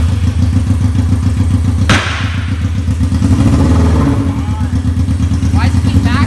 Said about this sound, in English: Why does it keep backfiring?